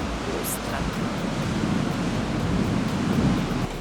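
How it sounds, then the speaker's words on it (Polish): Strong early-morning wind gusts steadily across a hotel's outdoor infinity pool in Playa del Carmen on Mexico's Yucatán, a loud, continuous broadband roar like surf, with no clear pauses. "W tej chwili oczywiście jest wcześnie rano, bardzo wieje"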